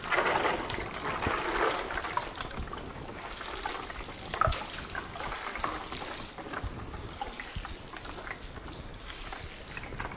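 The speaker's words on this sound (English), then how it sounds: "So we'll top water these." Trays of pea microgreens being top watered indoors, a continuous splashing, pattering spray of water over ten seconds, close and moderately loud with no talking.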